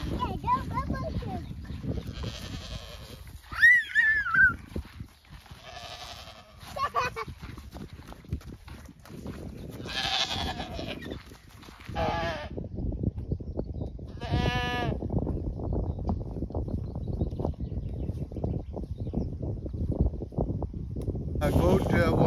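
Goats bleat a few times at a farm in Warka, Poland, with short wavering calls spread through the clip over a person talking and scuffing footsteps on the ground.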